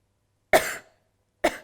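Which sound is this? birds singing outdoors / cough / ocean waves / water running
cough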